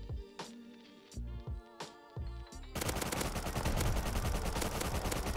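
Rust video game gunfire: a few spaced single shots with echoing tails at first, then a loud, dense stretch of rapid automatic fire that continues to the end.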